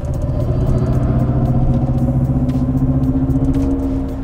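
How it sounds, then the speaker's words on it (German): A Mercedes EQS electric car accelerates hard, giving a loud, steady synthetic drive hum with layered tones that hold and slowly shift, without engine firing pulses. "wie sich dieses Auto verhält, wenn ich mal ordentlich aufs Gas stecke"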